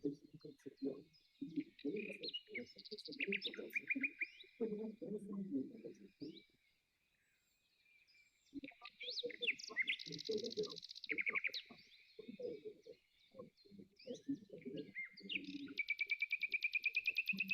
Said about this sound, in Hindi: ये पक्षी हमें ध्यान की गहराई में लेकर जा रहे हैं।